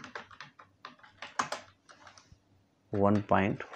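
Rapid clicking keystrokes on a computer keyboard while typing in MS Word, close and fairly loud in an irregular rhythm, with a brief burst of a man's speech near the end.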